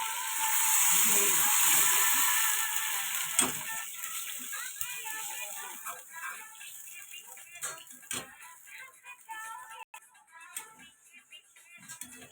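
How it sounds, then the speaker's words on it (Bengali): Water hits a hot pan with a loud burst of hissing sizzle that gradually dies down to crackling bubbles and scattered pops. "এবার পরিমাণ মতো জল দিয়ে দেবো"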